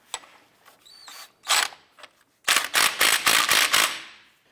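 A ratchet tightens the spindle nut on a 2001-2005 Honda Civic during a CV axle replacement. A few separate clicks come first, followed by a quick run of sharp, close ratcheting strokes.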